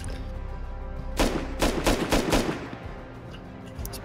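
Gunfire in the video game Rust: a quick burst of five or six loud, sharp shots in the middle, set against a low steady game background.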